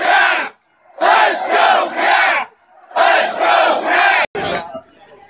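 A large crowd at the Washington Capitals 2018 Stanley Cup championship rally chants "Let's go" in loud rhythmic bursts of three, two rounds separated by short pauses, then a final shout that fades.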